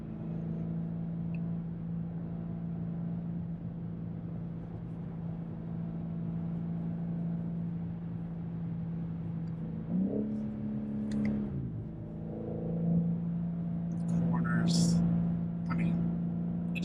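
A 2024 BMW M4 Competition xDrive gives a steady, muffled engine drone from inside the cabin, with a gear change and rising pitch around the middle, then stronger acceleration near the end.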